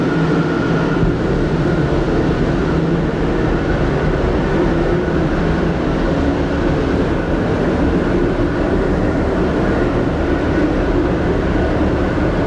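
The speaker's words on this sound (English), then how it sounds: "The main flame on the bilge is on a motor valve, which will run up for 7 seconds." Main flame of a bilge fire trainer in a mobile shipboard firefighting trainer, fed through a motor valve, burns with a loud, steady, close roar that holds unchanged throughout, with no voices.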